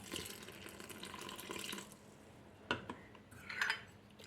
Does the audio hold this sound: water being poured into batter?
yes